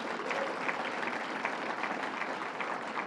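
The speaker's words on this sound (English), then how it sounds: "Let's give her a round of applause." A crowd at a campaign event applauds the New York Lieutenant Governor, a brief, fairly quiet and even spell of clapping heard from a distance.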